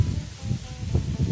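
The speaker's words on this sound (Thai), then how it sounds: "พี่น้องฟังเสียงลมครับ" Strong wind blows through mango trees, making low, gusty rumbling buffets with faint rustling, loud and close throughout.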